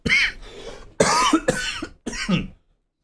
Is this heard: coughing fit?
yes